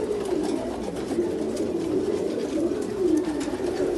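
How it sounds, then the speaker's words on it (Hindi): Pigeons coo in low, rolling, continuous murmurs, several birds overlapping at close range against a steady background hiss. "अनस भाई, आपका 2 पीस कबूतर है"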